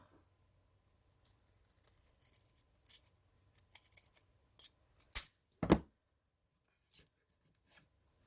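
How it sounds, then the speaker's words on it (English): Scissors snip a small cardboard or paper piece for the bottom of a desktop organizer box, trimming about a sixteenth of an inch: scattered close, crisp cuts and rustles, with one louder sharp snip near the end. "I trimmed off about 1/16 of an inch"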